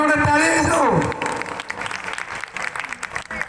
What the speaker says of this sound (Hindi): गोटे ताली जाऊ